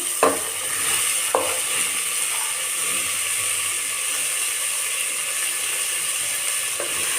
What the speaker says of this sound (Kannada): ಇದಕ್ಕೇನೆ ಈ ಇಟ್ಕೊಂಡಿರೋಂಥ ಅವರೆ ಅವರೆ ಬೇಳೆನ ನೋಡಿ ಅದರೊಡನೆ ಒಗ್ಗರಣೆಯಲ್ಲಿ ಬಾಡಿಸ್ತಾ ಇದ್ದೀನಿ